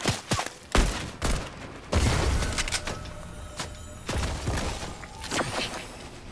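Gunfire in Fortnite: a string of loud, sharp shots and thumping impacts come in irregular bursts, some clustered rapidly, with short gaps and echoing tails between them.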